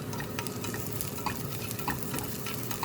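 Onions caramelizing in a frying pan, a close, steady sizzle with light crackles and soft stirring scrapes, continuous and alone.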